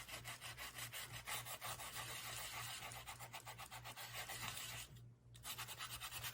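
Rhythmic rasping strokes of a sanding block rubbing back and forth on embossed colored tin, close and steady, briefly pausing near the end before resuming.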